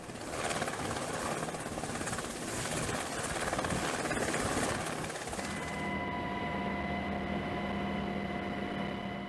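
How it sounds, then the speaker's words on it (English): A Sikorsky SH-60 Seahawk helicopter's steady roar fills the whole clip, a dense rotor and engine drone that shifts to a more tonal whine partway through. "transported from cargo ships to the carrier with the help of helicopters, like the Sikorsky SH-60 Seahawk"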